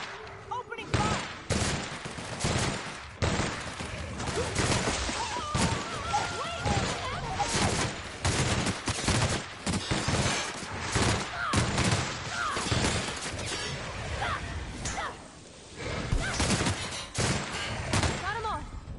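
Gunfire in the video game The Outer Worlds, dense bursts of shots and rapid automatic fire with impacts and crashes, loud and nearly continuous, with voices talking in between.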